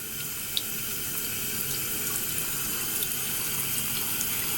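Tap water runs steadily into a sink while a makeup brush is washed, giving an even, close splashing hiss throughout with no talking.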